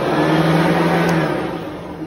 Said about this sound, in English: Still my favorite vacuum, my favorite sanitaire. Still runs amazing.